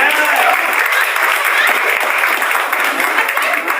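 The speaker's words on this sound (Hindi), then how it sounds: "जोरदार ताली बजाइए।" Loud, dense clapping from an audience at a market product-selling event, with steady applause filling the whole stretch.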